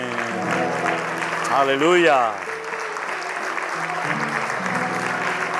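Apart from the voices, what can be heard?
church congregation applause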